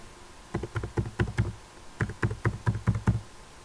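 Computer keyboard keys tapped while entering a new email password, two quick bursts of close, crisp clicks separated by a brief pause.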